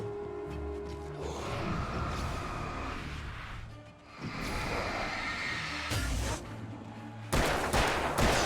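Gunfire in the Alan Wake video game: repeated shots and rapid bursts crack over a dense, loud backdrop of game music and action noise, with sharper volleys near the end.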